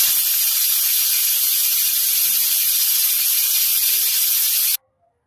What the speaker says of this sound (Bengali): আমি 3টি সিটি দিব প্রেসার কুকারের